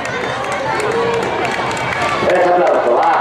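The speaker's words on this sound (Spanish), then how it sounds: "Ese aplauso, va." Spectators along the course of a popular running race in Meaño clap and cheer continuously, a dense crowd roar that grows louder toward the end, with voices mixed into the noise.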